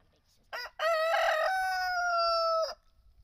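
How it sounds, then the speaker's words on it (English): A rooster crows once, loud and close: a short opening note followed by a long, drawn-out call that ends abruptly, with quiet around it. "Chickens need to go away."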